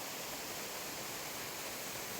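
Steady broadband rush of a waterfall spilling below a man-made dam, a constant close hiss of falling water with no pauses and no voices.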